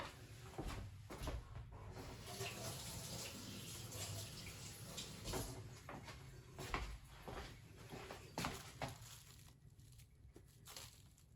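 Tap water runs while a kitchen utensil is rinsed for a baked Alaska dessert, giving a soft, continuous splashing broken by small knocks and clatters close by.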